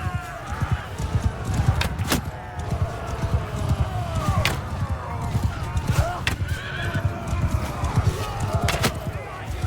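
Horses whinny and neigh repeatedly amid clattering hooves and battle noise in a Mount & Blade 2: Bannerlord fight, several calls rising over a busy, continuous din.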